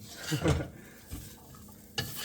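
Egg white fried rice with dried scallop sizzles steadily in a pan, broken by a few scraping stir strokes from a utensil, close and moderately loud with no talking.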